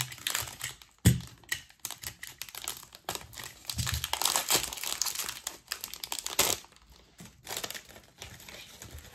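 A foil Pokémon booster pack from the Shining Fates (Destinées Radieuses) set is torn open up close, with rapid, crisp crinkling and crackling in irregular bursts and no talking.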